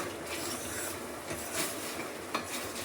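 A spoon stirs a thick boiling paneer gravy in a pot, giving a soft continuous scraping and bubbling with light clinks of metal on the pan, close and fairly quiet with no talk.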